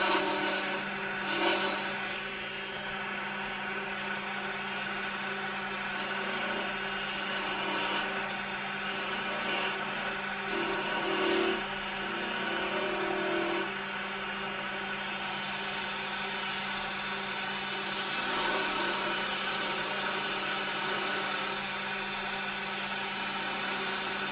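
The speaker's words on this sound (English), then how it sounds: "Get rid of some of this waste here." Wood being cut away as waste is removed from a small turned ornament spinning on a lathe, giving a steady rasping, scraping hum throughout with brief louder bursts of tool contact and no talk.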